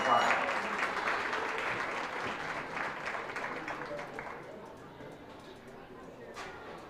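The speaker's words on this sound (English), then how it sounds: "let's give these young folks a round of applause." Audience applause for young competitors at a county goat show ring, a dense sustained clapping crowd that slowly tapers off, with an announcer's voice speaking over it.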